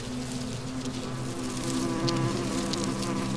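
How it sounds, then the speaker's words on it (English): A dense, steady buzzing drone of many honey bees at their forest nest fills the air up close, a constant humming swarm with no pauses. "All bees are dedicated to the colony."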